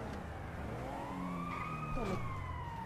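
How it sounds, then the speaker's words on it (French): An ambulance siren in the GTA video game wails in rising and falling sweeps as the vehicle passes, moderately loud over a steady traffic and engine rumble. "tu viens de me passer devant en ambulance, là."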